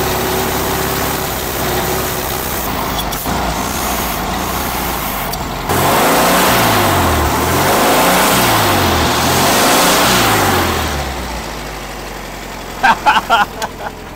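A five-year-idle Volkswagen car engine revs repeatedly in loud, rising and falling surges after a steady running stretch, ending with a few sharp bangs close by.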